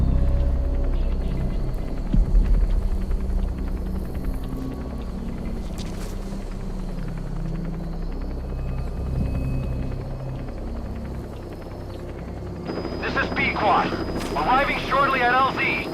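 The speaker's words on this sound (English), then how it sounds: "Support helicopter has arrived." A support helicopter arrives at a landing zone in Metal Gear Solid V, a steady rotor rumble and whir filling the scene, with voices talking near the end.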